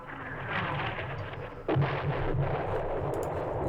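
Weapon fire in the war game Campaign Series Vietnam at the Battle of Hue: a continuous low rumbling barrage with a sharper, louder blast about halfway through, followed by sustained heavy firing.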